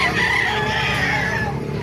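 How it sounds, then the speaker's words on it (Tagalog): A rooster crows loudly and close by at a market in Bocaue, one drawn-out call lasting nearly two seconds. "Papakita ko sa inyo mga manok dito sa Bukawi."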